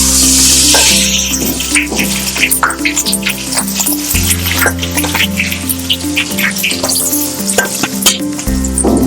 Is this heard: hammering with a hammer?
no